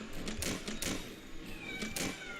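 A cat whining and meowing loudly in repeated plaintive cries, several close calls over a steady indoor background.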